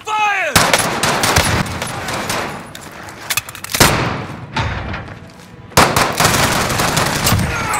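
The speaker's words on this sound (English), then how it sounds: "Taking fire!" Video game gunfire, loud bursts of rapid shots and thuds coming in waves with short gaps between them, close and dominant.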